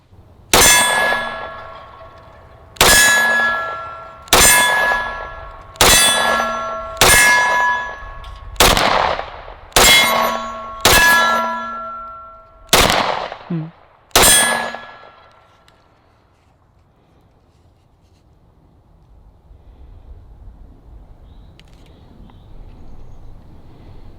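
Eleven pistol shots from a Glock fitted with a Holosun SCS optic strike steel targets at a steady pace, each sharp crack followed by a ringing metallic clang that decays before the next, then a quiet outdoor tail.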